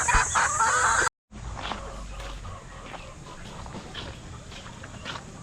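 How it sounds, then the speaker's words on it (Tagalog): Chickens cluck and a rooster calls around a backyard poultry pen at feeding time, a loud burst of clucking before a brief drop-out, then steadier, softer fowl chatter with scattered calls. "natapos na tayo magpakain sa mga manok natin"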